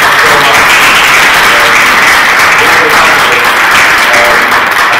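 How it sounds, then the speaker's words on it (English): Loud, sustained applause from an audience at a Brahma Kumaris UK gathering, dense continuous clapping filling the whole stretch without letting up. "I just want to have a massive round of applause for all of you."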